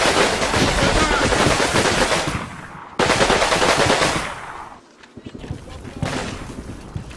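Gunfire rings out in the tank-rider battle of the war game Combat Mission Red Thunder: dense, rapid machine-gun bursts come loud and close, break off sharply, resume, then thin out into scattered shots and quieter rumble.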